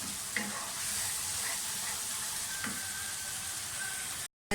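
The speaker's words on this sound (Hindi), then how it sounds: "थोड़ा सा फ्राई करें।" Garlic-ginger paste and ground green chili paste sizzle softly in a pan for chicken keema, with a steady low frying hiss and occasional scraping stirs close by, and no talking.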